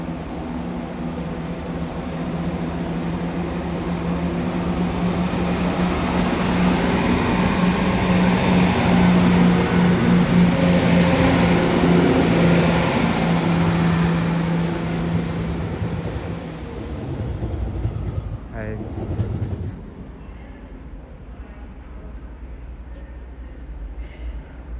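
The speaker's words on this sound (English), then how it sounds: "Now departing back 4 or 5 minutes late will be the 11:36." A CrossCountry train departs Derby station four or five minutes late, bound for Cardiff Central: a loud, steady diesel engine rumble with a low tonal drone, building for about fifteen seconds before fading away into quieter platform ambience.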